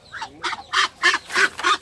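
A duck quacks six times in a quick, even rhythm, each quack close and distinct with short gaps between them.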